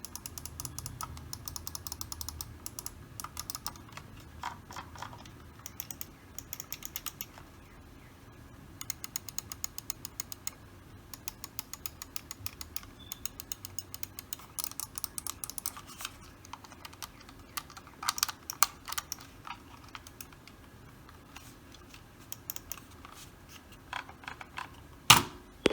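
A computer mouse being clicked for a sound test at a gaming and streaming desk setup, giving long runs of quick, crisp, close clicks in uneven bursts with brief pauses between them and no talking.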